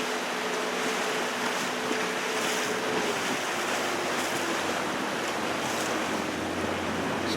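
Sea waves at a sailing club wash steadily in a broad, continuous hiss mixed with wind noise. There are no voices.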